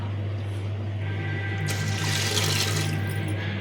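Water runs from a tap into a cooking pot for rice, a soft trickle that swells into a louder splashing pour midway before easing off.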